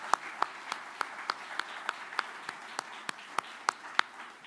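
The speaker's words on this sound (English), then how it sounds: "please give a round of applause for the entire Detroit Athletic Club staff" Sparse, evenly spaced hand claps at an outdoor-indoor awards night for a Michigan state-champions athlete of the year event at the Detroit Athletic Club, about fourteen sharp claps in a steady rhythm, fairly faint and slightly distant, no talking.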